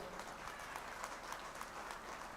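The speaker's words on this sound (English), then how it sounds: "Can we have a big round of applause?" Applause from the audience at a university convocation ceremony, a continuous patter of many hands clapping, faint and distant throughout.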